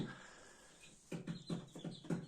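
Faint, quick tapping and scrabbling of chicks inside a box, a rapid irregular series of soft knocks with small chick peeps, heard close but quiet.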